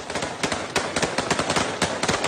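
Rapid automatic gunfire rattles through street riot chaos in France, a dense run of loud, close cracking shots fired in quick irregular bursts with almost no gap between them.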